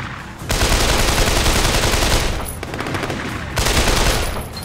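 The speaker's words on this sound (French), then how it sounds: "On repasse sur le fusil d'assaut classique." Classic assault rifle fire in the open-world action game Sleeping Dogs, two loud sustained bursts of rapid automatic shots separated by a brief lull, close and dominant.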